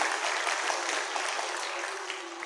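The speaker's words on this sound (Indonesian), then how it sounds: "Tepuk tangan untuk kita." An audience claps together in a dense, steady burst of applause, fairly faint and even throughout with no voices over it.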